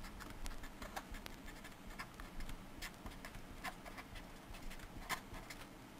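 Chalk or marker scratching and tapping across a board while working out trigonometric integration, steady irregular strokes with occasional sharper taps, close and fairly quiet with no talking.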